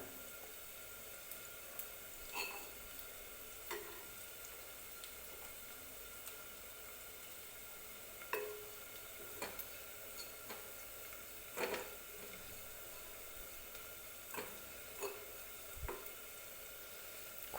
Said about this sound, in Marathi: बारीक गॅसवरती भाजायचा आहे मसाला